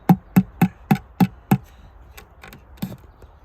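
A hammer driving a wooden dowel into a board for an oversized birdhouse: six sharp, evenly spaced strikes about a third of a second apart, then a few lighter, slower taps, close and loud with no speech.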